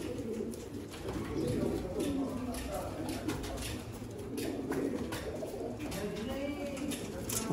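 Golden pigeons coo in soft, low, repeated rolling calls that overlap steadily, close by, with a voice talking over them.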